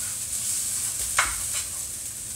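Chocolate French toast fries in a pan with a soft, constant sizzle, broken once by a brief scrape as a slice is checked or turned, close and fairly quiet.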